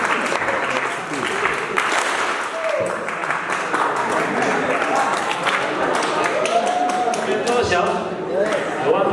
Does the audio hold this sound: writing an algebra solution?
no